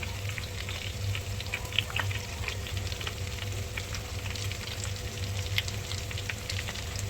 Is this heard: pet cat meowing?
no